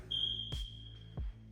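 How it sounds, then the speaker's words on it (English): A smoke detector in a spacious custom ranch house gives a single faint, high-pitched beep, with a couple of soft thumps nearby in an otherwise quiet room. "We're gonna have to deal with the beeping smoke detector"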